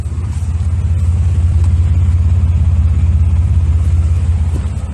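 A truck engine runs steadily through a new Flowmaster exhaust with no tailpipe fitted, a loud, close, deep rumbling drone with a fast pulsing throb that holds constant throughout.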